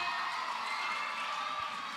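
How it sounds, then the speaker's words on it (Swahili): An audience at a Sunday school conference claps and cheers for the teachers, a steady wash of applause with shouts and whoops throughout, no single voice standing out. "Tuwapigie hao walimu wote makofi"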